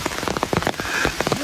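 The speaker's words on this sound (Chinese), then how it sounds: "下雨了，再躲一下再走。" Steady rain falls and patters on surfaces outdoors on a mountainside during a honey-gathering trip, a dense close hiss of drops with scattered louder hits and no talk.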